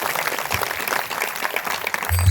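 A crowd at a devotional kirtan gathering for the Gajanan Maharaj Pragat Din festival claps for a performer, even scattered clapping at moderate distance, with a low hum rising near the end.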